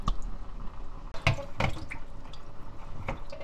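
Seawater splashes and drips in short, sharp bursts while a sea cucumber is rinsed and cut, with wet knocks and a steady watery background and no talk.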